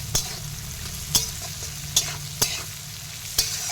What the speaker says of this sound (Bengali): কাজু কিশমিশ দিয়ে হালকা ভাজা করে নিয়েছি